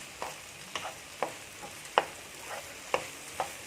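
Egg and vegetables stir-fried for fried rice in a pan with capsicum, with regular spatula taps and scrapes about every half second over a soft, steady sizzle.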